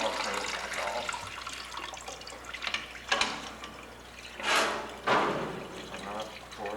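Process water gushes from a tap at a batch plug in an industrial room, a steady broad rush with a few louder surges as the flow is turned and shut off.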